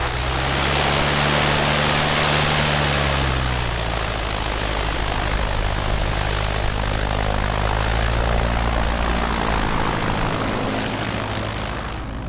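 Low-wing kit plane taxiing with its propeller engine running steadily and loud throughout, a deep droning hum with shifting low tones as power changes, heard from close by inside or near the aircraft.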